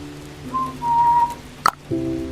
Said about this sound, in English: I whistled and clicked my tongue.